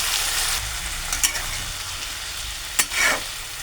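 A little water goes into a pan of vegetables, stalks and potatoes, that have been frying with eggplant alongside, producing a steady, close sizzle with a couple of sharp hissing bursts, alone without talk.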